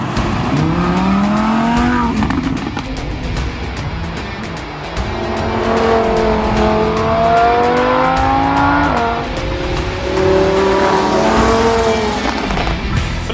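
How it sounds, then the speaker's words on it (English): Lamborghini Huracan Spyder driven in Sport mode with its louder exhaust, the engine revving loud and close through rising and falling gear pulls, with a brief tyre squeal and no talking. "Flick it into Sport using the switch on the bottom of the steering wheel, and the exhaust is louder, the throttle is sharper"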